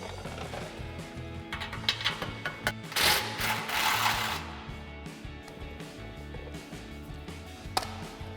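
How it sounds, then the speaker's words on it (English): A ratchet with a swivel socket and 14 mm socket working loose the tailpipe bolts on a 2022-2023 Toyota Tundra exhaust, giving quick faint clicking bursts with a brief louder metallic rasp near the middle, no talking. "we're going to take these 2 bolts and we're going to remove them with a swivel socket and a 14 millimeter socket"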